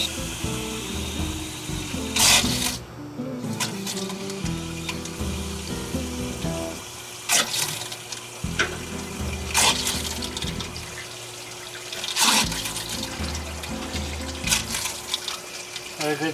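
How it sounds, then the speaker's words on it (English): Water from a garden hose runs through a part of an old Packard car in a steady, splashing stream, with occasional louder gushes and spatters over a constant wash of flow. "I'm gonna grab a garden hose and see if I can just run some water through there"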